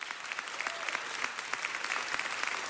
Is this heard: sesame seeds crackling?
no